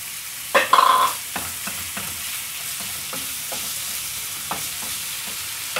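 Tomatoes for lasagna sizzle in a pan with a steady frying hiss, broken by a few clattering stirs and scrapes of a utensil early on, close and with no talking.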